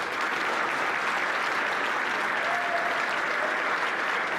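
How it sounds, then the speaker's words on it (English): Sustained audience applause at a school fall awards ceremony, a steady wash of many hands clapping at moderate loudness throughout, with no pauses. "please give him a big round of applause."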